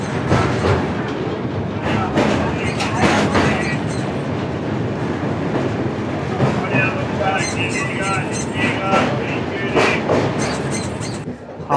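A passenger train out of Howrah rolls along the tracks, heard from inside the coach as a loud, steady rumble with rhythmic clatter, while people talk over it.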